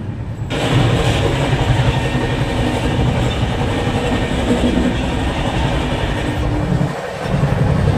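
The 12810 Howrah–Mumbai Mail rumbles along at night in a steady, loud roar of wheels and carriages heard from inside, with a brief dip and a thud near the end before the din resumes.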